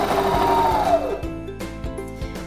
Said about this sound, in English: if you leave it in, both your bobbin winder and your needle will be engaged at the same time